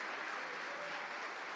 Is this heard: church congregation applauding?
yes